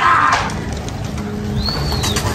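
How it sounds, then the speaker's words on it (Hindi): A pigeon coos near a rooftop pigeon loft, one soft call under a brief chirp and a flutter of other birds, close and fairly clear with no talking. "हसीन कबूतर है भाई"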